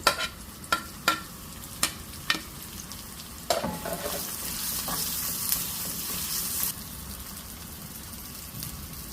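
Onion, cashew and tomato fry in a pan for dahi tadka. Several sharp spoon clinks come near the start, then a steady sizzle runs underneath, close and moderately loud, with no talking.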